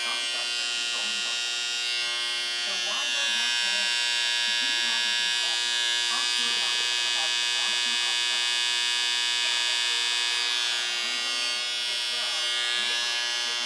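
A Bevel cordless trimmer buzzes at close range with a steady, high electric whir that stays even throughout, while a person talks over it.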